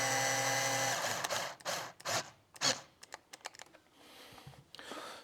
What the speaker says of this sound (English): These are just self-tappers going into plastic